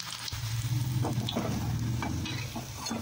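Soybean bhaji batter sizzling in hot oil, a steady close frying crackle with light stirring clinks, no talking.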